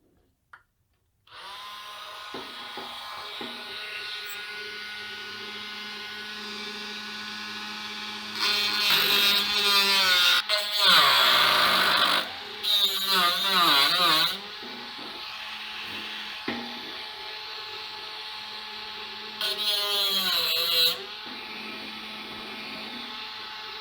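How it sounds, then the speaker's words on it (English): Power tool grinding out the metal web between two holes on a steel ammo can being made into a stove, a loud sustained whine that surges into harsher bursts as the tool bites into the metal, with no talking. "so that this can actually slide, I'll grind out the web in between these 2 holes"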